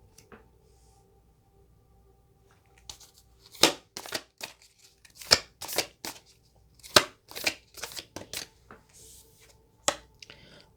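Tarot cards being shuffled and handled up close, with irregular soft flicks and riffling snaps that come in clusters after a quiet start.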